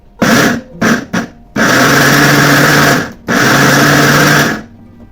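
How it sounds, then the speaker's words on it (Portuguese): A blender grinding barley whirs loudly in short pulses, then two longer grinding runs of about a second and a half each, close and harsh. "Agora eu vou triturar no liquidificador."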